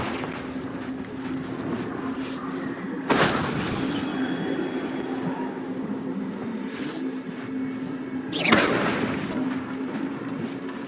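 Confringo blasting-curse explosions in Hogwarts Legacy, two sudden loud fiery bursts several seconds apart, each followed by crackling debris, over a steady low game hum and ambient rumble.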